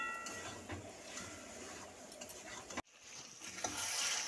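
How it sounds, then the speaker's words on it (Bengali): Chicken pieces are stirred in oil in a pan for butter chicken, giving soft scraping and quiet sizzling with a short abrupt break near the end, faint and close with no talk. "মাংসটা দিয়ে একটু নেড়ে নাড়বো,"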